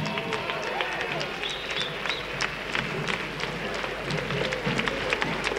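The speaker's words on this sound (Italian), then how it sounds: "Accogliamo con un grandissimo applauso la compagnia dei Vicoli della Gioia" Theatre audience applauds a local amateur company after a comedy performance, a dense, continuous wash of clapping from a crowd with voices and murmurs mixed in throughout.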